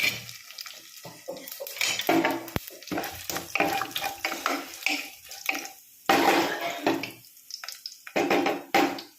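Fenugreek, cumin and dried red chillies roasting in a pan, with irregular dry scraping and stirring clatter in uneven bursts and gaps, close and fairly loud, no speech.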